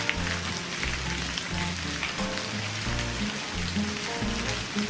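Steady rain patters in Quebec in autumn, a dense, even hiss of drops on surfaces that continues at a constant level without pauses, no voices.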